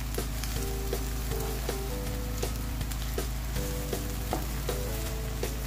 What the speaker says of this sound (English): And then I melt it with my spoon. I melt it to mix with the sauce.